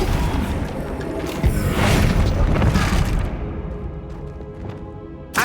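Flipendo spell cast in the video game Hogwarts Legacy: a loud booming blast that swells and rumbles for about three seconds, fades to a softer tail, and ends in a short sharp crack.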